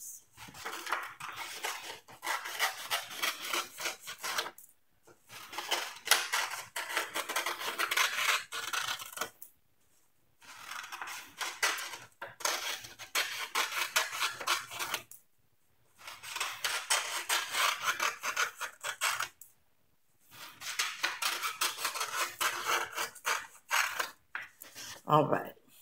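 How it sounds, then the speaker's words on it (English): Scissors cut thin strips of black paper in repeated bursts of crisp snipping and rasping, several seconds each with short pauses between, close and quiet. "I want you to cut out six strips of black"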